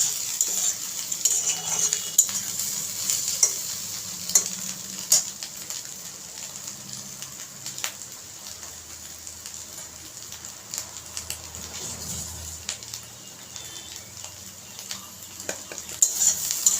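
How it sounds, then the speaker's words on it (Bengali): Egg and potato frying together in a pan for spring roll filling, a long, low steady sizzle under frequent scraping stirs and light clinks of a utensil against the pan, with no voices. "এখন আরও 1 থেকে 2 মিনিটের মতো ভেজে নেব ডিমটাকে আলুর সাথে।"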